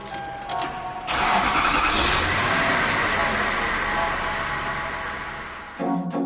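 A car engine cranks briefly, then catches and settles into a steady, fairly loud idle that gradually softens, heard close with no one talking.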